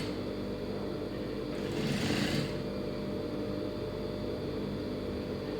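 A sewing machine stitching a folded hem on a cross-cut blouse, one short whirring run of the needle rising over a steady room hum and then stopping.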